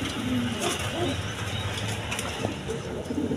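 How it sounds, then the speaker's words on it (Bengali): A pair of Belgian pigeons giving soft, low coos in short bursts, close by, with faint background noise and a person speaking quietly. "দর্শক এখানে 1 পেয়ার বেলাজিয়ার কবুতর আছে"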